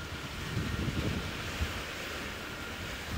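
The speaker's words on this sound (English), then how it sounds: "we woke up to this huge storm going on outside" Storm wind and waves surge around a sailboat during a squall, a low rumbling roar with gusts buffeting the microphone, steady and close.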